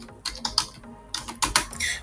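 Computer keyboard typing a command in a Kali Linux terminal: short bursts of close, crisp key clicks with brief pauses between them, no voices.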